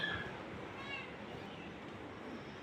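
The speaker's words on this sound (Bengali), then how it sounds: "আর এই যে বিলাই" A cat meows faintly in a quiet domestic setting, one soft call near the start against a low background hum.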